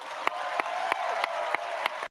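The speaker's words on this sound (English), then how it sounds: "They just started clapping." A live event audience claps steadily in a dense, even wash of applause, with a few sharp louder claps standing out before it cuts off abruptly.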